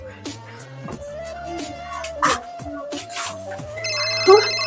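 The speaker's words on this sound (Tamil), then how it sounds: "யார் அது ஃபோன் பண்றது" A mobile phone ringtone plays a steady electronic melody during a Tamil comedy sketch, with light clattering and household noise around it.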